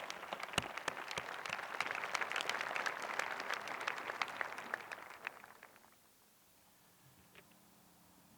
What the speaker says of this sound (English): Let's give them all a round of applause and show them their appreciation for all their hard work.